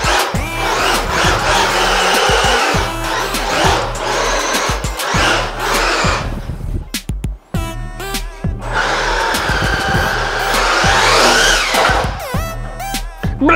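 A Traxxas MiniMaxx RC car runs outdoors in cold, rainy weather, its electric motor whining loudly in fast bursts with rattling and clatter, cutting out briefly midway before revving up again.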